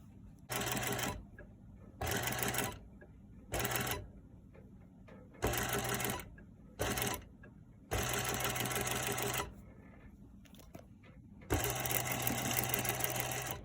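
A sewing machine stitching the shoulder seam of a bateau-neckline dress, running in several steady bursts of a second or two each, separated by short pauses, close and moderately loud with no voices.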